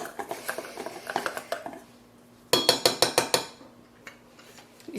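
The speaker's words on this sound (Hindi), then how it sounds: "तो अब हम इसको मिक्स कर लेंगे सारा सामान डाल के।" A spoon mixes patrodu filling ingredients in a metal pot. It clatters in quick bursts of scraping and clinking, then pauses and strikes the rim several times sharply, all alone and close by.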